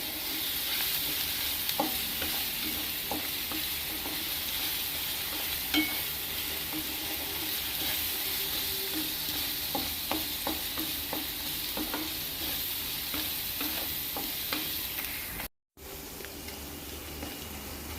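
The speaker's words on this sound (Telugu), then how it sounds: "కొంచెం లైట్గా పచ్చి వాసన పోయేలాగా వేపుకోవాలి" Ivy gourd (dondakaya) stir-fried in a pan for a masala curry, giving a steady broadband sizzle with scattered clicks and scrapes of a stirring spoon throughout, continuous and close with a brief dropout near the end.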